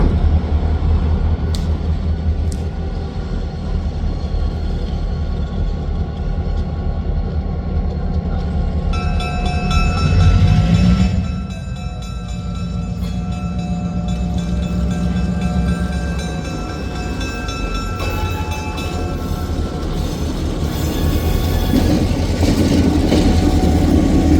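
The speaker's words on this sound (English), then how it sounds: "Both locomotives are here." Locomotives roll along the rails at a train derailment and fuel spill emergency, a loud, steady rumble and metallic rail noise continuing throughout, with squealing tones in the middle and no talk.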